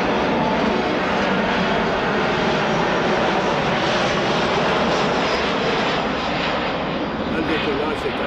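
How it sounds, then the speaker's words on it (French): A plane takes off and passes low over houses in a residential area, a loud, steady broadband engine roar that fills the whole stretch, with a voice talking faintly beneath it. "Le décollage, c'est affreusement bruyant, mais il y en a souvent qui passent en dessous de nos maisons."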